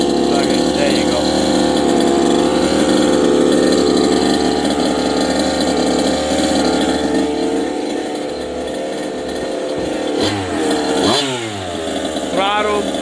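A small RC car engine buzzes steadily at idle as it warms up, loud and close, then dips and gives a few quick revving whines near the end.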